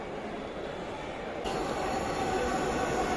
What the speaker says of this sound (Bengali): আমরা আলো দেখতে পাচ্ছি এবং ট্রেনও অলরেডি চলে এসেছে